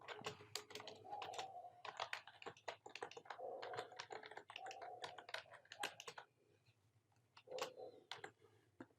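A computer keyboard being typed on while filling in a profile description, with quick bursts of clicking keystrokes separated by short pauses, close and fairly quiet.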